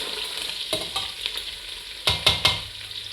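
Onions cooked with a little salt sauté in a pan. A spatula scrapes through them in several quick, close strokes over a constant sizzling hiss.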